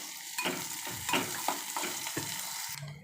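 Onion sautéed in a pan until soft for Malvani chicken liver, with a steady sizzle and a run of scraping spatula strokes close up, no voices.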